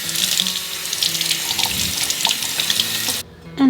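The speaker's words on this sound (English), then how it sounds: "we're just going to go ahead and rinse them off, make sure there's no soap residue on there" A steady, close hiss of running faucet water rinses soap off washed canning jars, with faint clinks beneath. The flow cuts off abruptly near the end, followed by a short knock.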